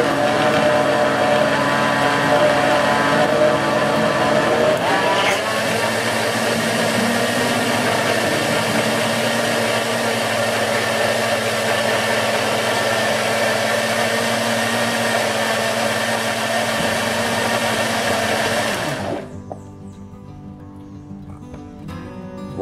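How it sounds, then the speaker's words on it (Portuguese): A steady, loud whir of an electric mixer beating coconut donut batter runs without pause for about nineteen seconds, then cuts off abruptly, leaving faint clinks. "Bater mais um pouquinho de nada, só para misturar."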